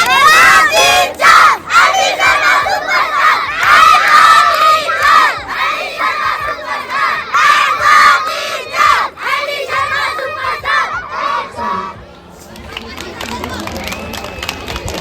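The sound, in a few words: crowd shouting and cheering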